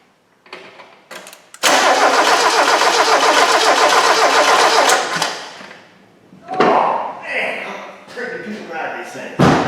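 A Mazda Miata MX5 with no spark and no injector pulse cranks over loudly without catching, a steady churning stretch of several seconds, followed by shorter cranking bursts and clatter nearby.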